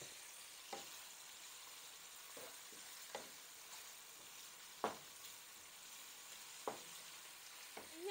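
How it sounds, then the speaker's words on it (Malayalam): Onions sizzle steadily in hot oil for a prawn biryani, with a few brief scraping stir strokes over the quiet, continuous frying. "ഇപ്പോൾ ഓനിയൻസ് ആദ്യം ഒന്ന് വറുത്ത് കോരി ഈ എണ്ണയിൽ തന്നെ നമുക്ക് ബാക്കിയുള്ള സാധനങ്ങളും കൂടെ ഫ്രൈ ചെയ്തെടുക്കണം"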